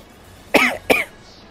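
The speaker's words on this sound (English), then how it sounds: "Suddenly I need to cough." Two sharp coughs in quick succession from a single nearby person, each a short harsh burst, with near silence before and after.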